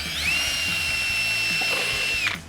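A drill spins up to bore a pilot hole in a plastic panel, a steady high-pitched whine held for about two seconds before it winds down.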